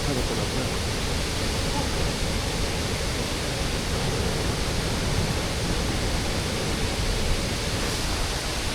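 Sri Lankan waterfall in the style of Bambarakanda roaring continuously, a dense, loud, unbroken rush of falling water heard close with no letup and no talk.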